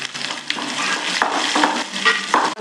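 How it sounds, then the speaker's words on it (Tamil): Onions hit a hot pan of popped mustard seeds for a tempering, giving a loud, steady sizzle and crackle with a few sharp pops, up close and with no voices. "கடுகு பொடிஞ்சிருச்சு. வெங்காயம் போட்டுக்கலாம்."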